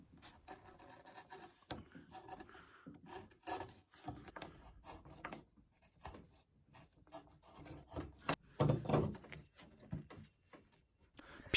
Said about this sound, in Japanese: ガタガタしないように慎重に削ります。